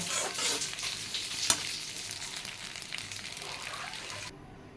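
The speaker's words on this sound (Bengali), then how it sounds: "সবগুলো নেড়ে ছেড়ে এবার টমেটোর সসটা দিয়ে দেব" Pasta with eggs and tomato sauce is stirred in a hot pan, a continuous sizzle with scraping spoon strokes and one sharp clink, easing off toward the end; no one speaks.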